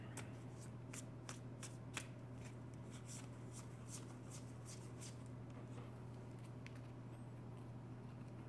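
A deck of tarot cards is shuffled up close, soft rapid riffling flutters in quick bursts over a low steady hum, quiet and without voices.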